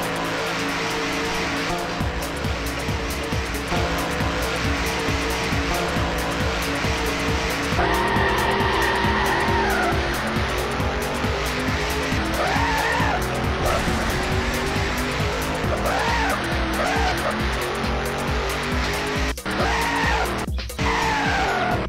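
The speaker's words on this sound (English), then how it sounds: "But here's the first race, Max versus Katsu" Race cars in the video game Drome Racers, engines droning steadily with repeated tire squeals and skids as they corner, loud and continuous throughout.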